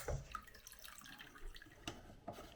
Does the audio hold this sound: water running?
yes